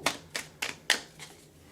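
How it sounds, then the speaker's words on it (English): A tarot card deck is handled and shuffled in a steady rhythm of five crisp, papery taps and slaps about a third of a second apart. They are close and clear, with no talking. "So we're going to shuffle and we're going to throw just 2 cards."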